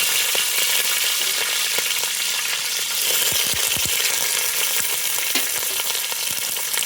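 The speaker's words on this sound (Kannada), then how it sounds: "ಇದನ್ನು ಚೆನ್ನಾಗಿ ಫ್ರೈ ಮಾಡ್ಕೊಳ್ಳೋಣ." Ghee with green chillies and curry leaves sizzles and crackles steadily in a pan, a loud, continuous fry with scattered pops and a few stirring clinks, and no talking.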